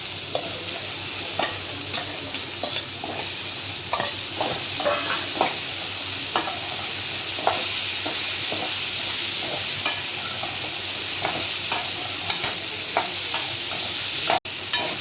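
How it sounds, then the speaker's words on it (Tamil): Okra sizzles steadily as it fries in a pan for a Tamil-style poriyal, with repeated scraping stirs of a spatula running through the whole stretch and no talking. "கொஞ்சம் வெண்டைக்காய் வதங்கிடுச்சு"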